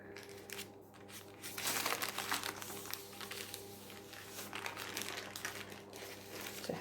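Paper crinkles and rustles steadily while a sausage, cranberry and stuffing roll is rolled up in it, a close, soft crackling with no speech.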